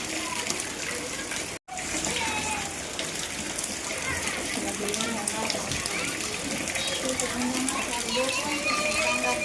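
Rainwater runs and splashes steadily through a flooded village courtyard in Botad during a downpour, a continuous close wash of flowing water with people talking over it.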